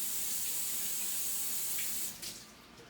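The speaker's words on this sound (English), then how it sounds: "Rinse off the mushrooms." Tap water runs steadily over mushrooms being rinsed for a vegan tofu scramble, a continuous close hiss of spray into a sink that eases off near the end.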